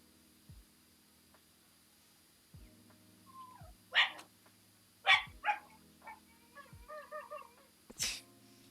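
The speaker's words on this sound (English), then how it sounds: "You can really tell she's throwing a fit by the way she's barking." A dog barks and whimpers in short, insistent bursts, a few sharp barks spaced across the clip with whining in between, fairly close in a quiet space.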